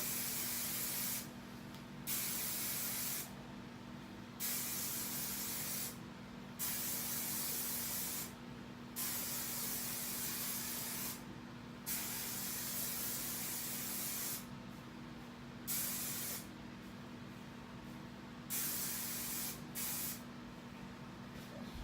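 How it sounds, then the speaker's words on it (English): Repeated bursts of aerosol hairspray hissing from a can, around nine sprays of varying length with short pauses, close by over a faint steady hum. "spray the ends real good"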